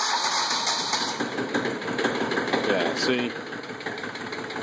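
A Chevrolet CK20 diesel truck engine runs steadily at night after a cold start, with a rough, rumbling idle that carries a faint knocking texture. Someone speaks briefly over it.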